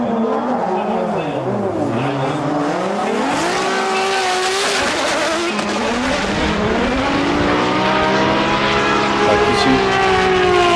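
A drift car at Formula Drift Japan runs on throttle through a judged zone. The engine wails loud and close, its pitch rising and falling as the tires squeal continuously beneath it, with commentary over the top.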